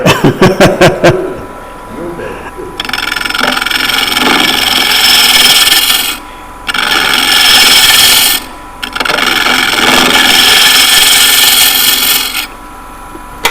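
Gouges cut wood on a lathe in loud, rough cutting passes lasting a few seconds each, broken by short gaps, after a quick series of sharp knocks at the start, at a woodturning club meeting.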